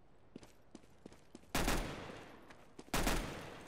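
Tech 9 pistol shots in Counter-Strike: Global Offensive: two loud sharp cracks with short ringing tails, set among faint, lighter taps of distant shots or footsteps.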